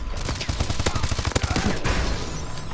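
Rapid automatic gunfire from Call of Duty: Advanced Warfare multiplayer, loud and close, a steady stream of sharp shots with a brief pause before bursts resume.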